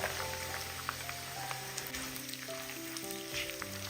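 Peeled garlic cloves frying with curry leaves in a hot pan: a steady, soft crackling sizzle with scattered small pops, with no voices.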